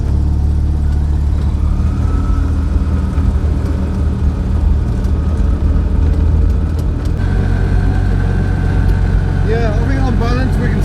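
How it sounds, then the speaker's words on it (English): An Invacar's engine droning steadily on a test drive, a loud continuous low rumble with a rising whine and some rattles, with a voice heard over it. "let's have a completely pointless test drive. See if it's made any difference at all."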